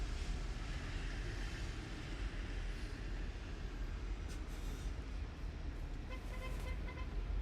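A Delta Airbus A350-900 arriving from Atlanta at LAX produces a low, steady jet rumble mixed with a broad roar of wind and weather noise, continuous and fairly distant.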